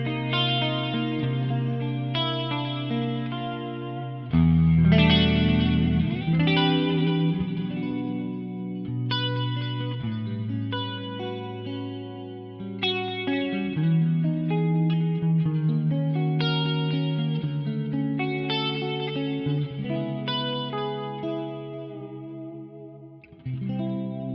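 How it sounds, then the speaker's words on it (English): A clean electric guitar tone with a chorus pedal on a D'Addario XPND pedalboard plays a slow sequence of picked notes and chords that shimmer and decay, moderately loud and unaccompanied by speech. "Add a bit of chorus to that."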